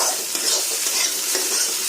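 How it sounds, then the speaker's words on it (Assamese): A steel spatula stirs and scrapes in a pan where egg and teasel gourd fry, a continuous bright sizzle with rhythmic scraping strokes, close and steady, with no talking. "অলপ শব্দ হৈছে, ডিম তলত লাগি ধৰিছে যে, কাঠৰ খন্তিয়ে কৰিলে অলপ অসুবিধা হয়, সেইকাৰণে মই ষ্টীলৰ খন্তিখন লৈছোঁ"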